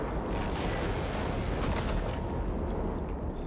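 A gunshot fires in the sci-fi video game Prey, a loud, dense burst of sound that fills the clip and fades slightly toward the end, with no voices over it.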